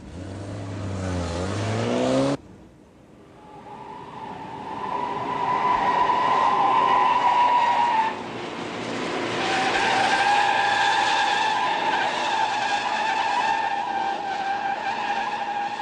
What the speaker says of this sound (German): Der Wagen kommt aus 100 Kilometern Geschwindigkeit in 50 Metern und 20 Zentimetern zum Stand.